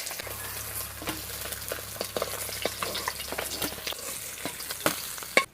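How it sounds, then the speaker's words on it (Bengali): Parshe fish and prawn fritters frying in oil in a village kitchen pan, a steady close sizzle with scattered sharp pops and crackles and a louder spatter near the end. "তারপরে আমি বড়াগুলো ভেজে নেব"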